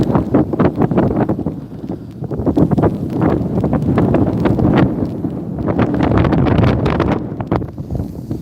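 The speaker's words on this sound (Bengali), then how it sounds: "প্রচুর বাতাস হচ্ছে এখন বাতাস তার সাথে বৃষ্টি সাথে আবার ঠান্ডা" Strong, cold evening wind sweeps across the Jiangsu University of Science and Technology campus in China, loudly buffeting the microphone in continuous rumbling gusts with no speech.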